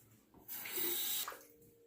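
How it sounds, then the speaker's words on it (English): Tap water runs into a sink to rinse a Feather Popular safety razor, a steady faint splashing flow that starts, holds under a second, then stops. "Okay, time to rinse the razor."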